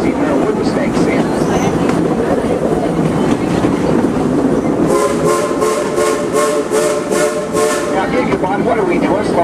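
A heritage passenger train on the Frisco Silver Dollar Line pulls out of a Missouri station, its steady rumble and rattle running throughout, with a horn blast partway through and a voice talking over the noise.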